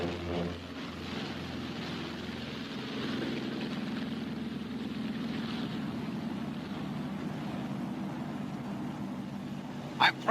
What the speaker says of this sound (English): I'm throttling back now to normal rated power, which is 38 inches of manifold pressure.